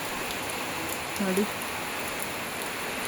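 The season's first light drizzle falls over a village where ragi has been sown. It makes a soft, even hiss, and a person speaks briefly in the middle.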